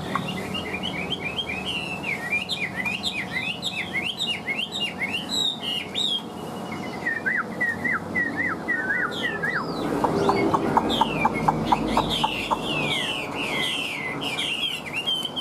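Hwamei songbird, a Chinese laughingthrush, sings a loud, close, continuous stream of varied whistled phrases, rising sweeps and rapid repeated trills with no talking over it.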